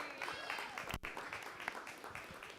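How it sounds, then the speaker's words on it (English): An audience at a community voting day and results party applauds in a dense burst of clapping that stays steady and fairly close for a couple of seconds. "Let's give him one more round of applause."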